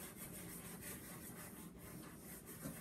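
Finger rubbing black chalk pastel across paper, a steady close-up scratchy friction that continues without pause for a few seconds.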